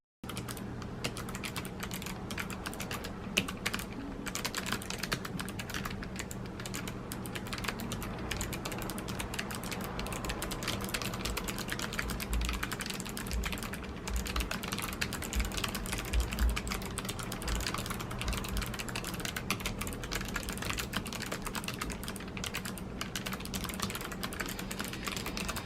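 Fast, continuous typing on a Logitech G915 clicky mechanical keyboard, dense crisp key clicks running steadily up close with no pauses and no talking.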